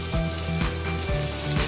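Finely chopped onion sizzles in hot oil in a kadai, a close, loud, steady frying hiss with a few soft clunks of stirring.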